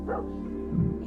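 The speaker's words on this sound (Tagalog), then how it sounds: "Mawala yung aso to ah! Tumigil nga kayo sa pagtahol." Dogs give a couple of short, muffled barks, one early and one lower yelp near the end, moderately close over a steady hum with no talking.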